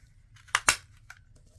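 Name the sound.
scissors cutting out paper from an envelope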